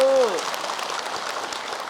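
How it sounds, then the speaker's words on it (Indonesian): Steady, dense audience applause at a religious sermon gathering, running throughout after a brief voice at the start. "tepuk tangan Ibu"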